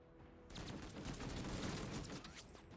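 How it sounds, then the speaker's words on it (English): A burst of rapid, dense gunfire from the video game Menace bursts in suddenly after a quiet start and keeps crackling loudly and continuously for over two seconds, with overlapping shots and no talking. "Who's shooting at us?"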